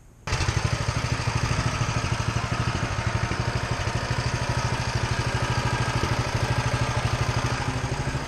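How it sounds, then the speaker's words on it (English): A small mini bike engine that had sat unused for a month or two starts on a pull and settles into a steady, loud, rapid putter, close and continuous without talk. "The bike hasn't ran in probably at least a month, maybe 2 months. Started right up, I think, on the 3rd pull."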